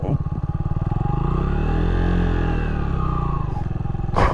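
A light motorcycle, a 2016 Orcal Astor 125, idles and revs steadily up close as it makes a U-turn, the pitch rising and falling slightly, with a brief blip at the end.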